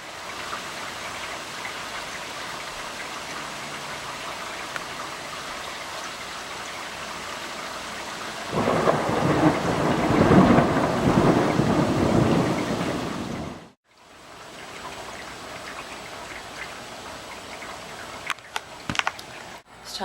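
Steady thunderstorm rain hissing throughout, swelling into a louder rumbling thunder burst midway, then a brief dropout before the rain continues with a few sharp knocks.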